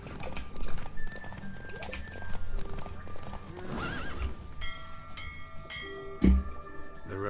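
Roach, Geralt's horse in the video game Witcher 3, galloping in a race: steady clip-clop hoofbeats with several whinnies and neighs, moderately loud over game music and effects, plus a heavy thump near the end.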